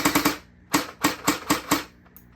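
A Lightning Blaster Pro toy gun fires crisp single shots, a quick cluster of three snaps and then four more evenly spaced pops, close and sharp.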